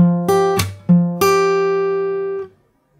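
Fingerstyle acoustic guitar plays a song's interlude slowly, a few plucked bass notes and ringing chords letting each note sustain before the strings are damped, close and clear with no talking.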